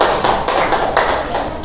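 Applause for a group of students in a classroom, a loud dense patter of many hands clapping together, steady with slight swells.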